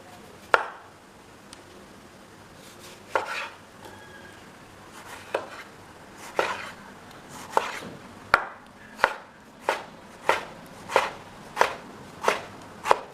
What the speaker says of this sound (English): Alright, I'm going to go ahead and get my tomato cut up as well.